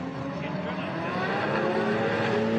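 A loud race car engine, the 2J car at WTAC, roars steadily past at close range, its pitch sustained and droning, with some voices faintly audible underneath.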